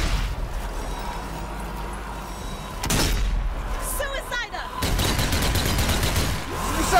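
Rapid gunshots and blasts from the zombie shooter Zombie Army 4 crack out in loud clusters, with heavy impacts near the middle and end, amid excited commentary.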